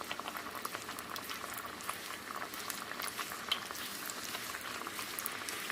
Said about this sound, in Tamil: எண்ணெய் இப்போ நல்லா சூடாயிருச்சு. நம்மளோட முதல் பொரியை போட்டுடலாம்.